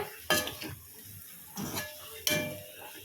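A spoon scrapes and clinks against a pan while stirring baby potato masala with coriander, three distinct metallic strokes with faint sizzling in between, close and clear with no talking.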